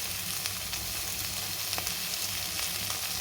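Okra frying with cumin and chili powder in a pan, a dense continuous sizzle close up with occasional soft stirring taps and no voices.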